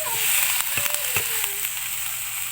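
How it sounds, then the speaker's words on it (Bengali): Fried carrots and peas are tipped into a hot pan and stirred, giving a steady close sizzle with scattered scraping and clatter from the utensil. "এখন আমি ভেজে রাখা সবজিগুলো দিয়ে দিচ্ছি।"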